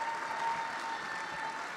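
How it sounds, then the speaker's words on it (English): Gala audience at a charity ball applauding a donor, a soft, fairly distant wash of steady clapping from a crowded room, continuous and even throughout with a faint tone in the background. "let's give her a huge round of applause and say thank you for donating"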